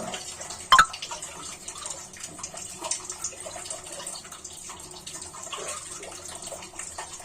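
Rice being washed under running water in a home kitchen: a steady tap stream splashing and trickling at moderate level, with one sharp knock near the start and small drips and swirls throughout.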